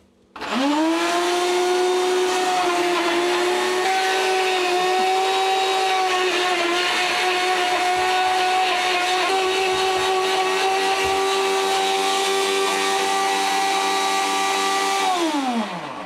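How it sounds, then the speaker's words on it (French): Shaker blender mixing eggplant with olive oil: the motor spins up sharply, holds a loud, steady high whine for about fourteen seconds, then winds down, with nobody speaking. "Donc là, on est sur un mixeur shaker."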